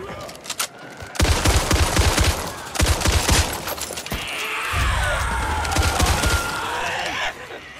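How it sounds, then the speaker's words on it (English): A light machine gun firing in the video game Back 4 Blood, loud sustained bursts of rapid automatic fire broken by short pauses, close and punchy, with a longer continuous stream near the end. "LMG!"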